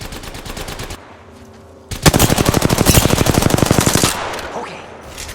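Rapid automatic gunfire in the video game Apex Legends sounds as dense, loud bursts, one short burst then a longer sustained volley of about two seconds, with quieter gaps between.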